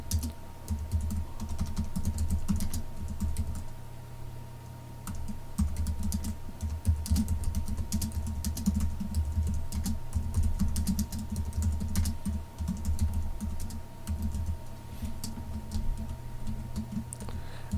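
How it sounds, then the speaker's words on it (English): Someone typing a short sentence on a computer keyboard, with a steady run of close, fast key clicks over a low background hum and no one talking. "we'll tab in and we'll just type a short sentence"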